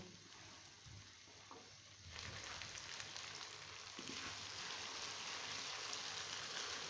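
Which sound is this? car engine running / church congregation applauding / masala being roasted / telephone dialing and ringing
masala being roasted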